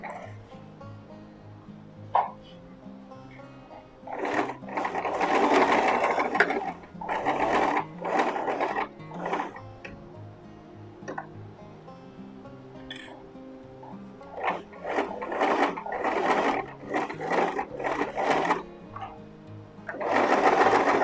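A sewing machine stitches a men's shirt collar in repeated bursts of fast, whirring stitching separated by pauses. A dog barks and whimpers in the background, and there is little speech.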